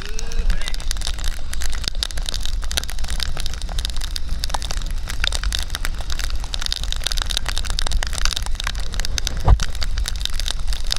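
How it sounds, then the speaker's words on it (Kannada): Heavy rain pouring down during a lamp festival at a temple in Gowdagere, a loud, unbroken wash of hiss and crackling patter that lasts throughout. "ತುಂಬ ಜೋರಾಗಿ ಹೋಗಿದೆ ಮಳೆ"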